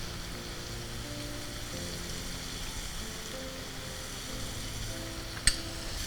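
Tomatoes with salt fry in a pan with a soft, steady sizzle that holds at a low level throughout, and one sharp tap or clink rings out near the end.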